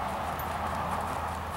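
Horse hooves clip-clopping on an arena surface during a riding warm-up before jumping, a steady muffled gait under broad background noise, with no voices.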